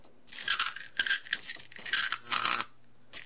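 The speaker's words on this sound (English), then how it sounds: "You actually have to almost touch it in order to get the arc to start" A homemade high-voltage flyback transformer fed from a variac throws an electric arc in several close, harsh crackling bursts of buzzing separated by brief silences.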